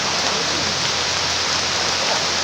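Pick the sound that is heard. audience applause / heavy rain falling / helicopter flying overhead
heavy rain falling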